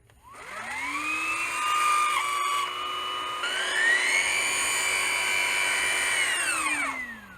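A faulty Hoover ONE PWR cordless vacuum cleaner's high, whining motor runs steadily for several seconds, with a shrill tone that wavers and dips partway through before it spins down.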